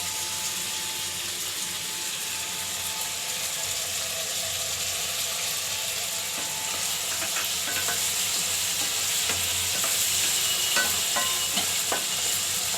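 Tomatoes going into a potato and eggplant curry frying over high heat, giving a steady loud sizzle with stirring scrapes and clinks building through the last few seconds, no voices.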